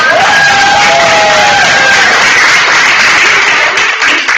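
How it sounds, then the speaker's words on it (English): An audience at a women's night event for a university career center claps and cheers for the moderator, a loud, sustained wash of applause with bright whoops and whistles over it, tapering slightly at the end. "if we can all give our moderator, Corey Halls, a round of applause"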